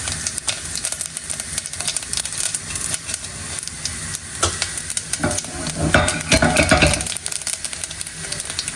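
Bay leaf and cumin seeds sizzle steadily in hot ghee for jeera rice, a close crackling fry with scraping stir strokes that grows louder and busier near the end.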